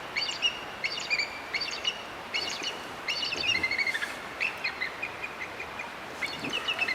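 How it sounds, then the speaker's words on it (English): An eagle near a fishing spot on a sunny late-summer day gives a series of high, thin chirping calls, repeated steadily and fairly close, with soft outdoor background noise. "Well, that'll be an eagle right behind me."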